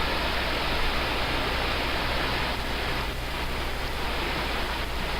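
The St. Louis River in Jay Cooke State Park rushes below a hilltop overlook at the High Landing campsite, a steady, dense broadband roar of flowing water with no pauses or voices.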